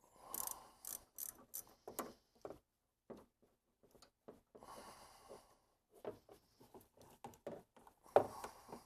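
Ratchet clicking in short bursts as it loosens the bolt on the condenser pressure line of a 2005 Honda Accord, close and fairly quiet, with pauses between bursts and no talk.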